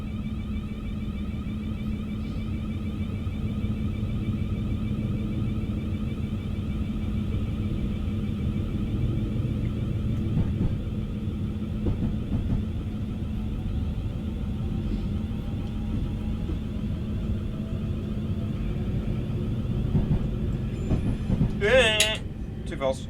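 A Class 700 electric train gets under way in a train simulator game, giving a steady low rumble and hum that holds throughout, with a few brief high chirps near the end.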